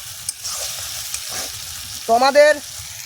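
Potatoes frying in a pan for egg fry ghugni, a quiet sizzle with scraping stir strokes, then a brief burst of louder voices near the end.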